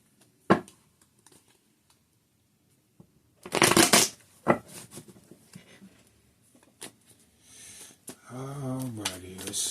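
Tarot cards are shuffled close by in sparse crisp flicks and one loud riffling burst, with a person speaking toward the end.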